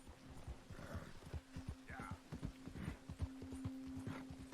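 Galloping horse hooves in a video game, a steady rapid clip-clop rhythm with an occasional whinny, under continuous low music and background game sounds.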